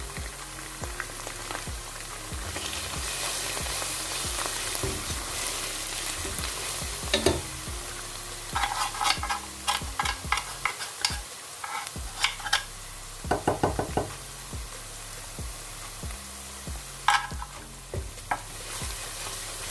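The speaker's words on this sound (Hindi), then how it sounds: "इनको अच्छे से मिक्स कर लेंगे।" Sarson ka saag with turmeric is stirred and fried in a pan, giving a continuous sizzle with repeated scraping strokes and clustered spoon clatters that come in bursts, close and fairly loud, with no talking.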